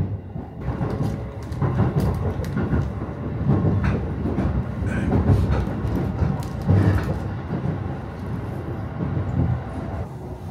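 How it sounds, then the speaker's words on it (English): A local Tohoku Main Line train in Japan rumbles along the rails with a steady low roar and faint clattering, continuous and fairly loud throughout, with no voices. "This is a Tohoku Line train for Shin Shirakawa"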